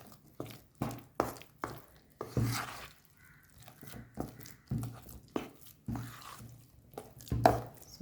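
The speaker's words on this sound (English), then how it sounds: "So mix this very nicely." Eggless Christmas cake batter being mixed with nuts, heard as a series of soft, uneven thuds and scrapes of a spoon through thick batter in a bowl. The strokes come close and repeat in an irregular rhythm, with no talking.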